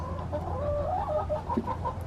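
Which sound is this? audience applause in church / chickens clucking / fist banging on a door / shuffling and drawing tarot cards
chickens clucking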